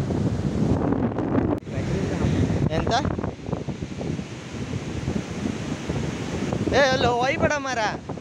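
Sea waves on the Udupi coast wash in a broad, steady roar, buffeted by wind noise, with voices breaking in near the end.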